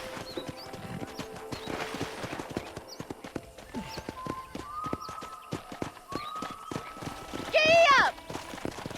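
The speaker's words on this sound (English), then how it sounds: "Okay, let's see if you can still ride a horse." Horse hooves clip-clop at a quick, steady gallop in the Red Dead Redemption video game, the rhythm running throughout under a tonal musical hum, with a brief whinny-like cry near the end.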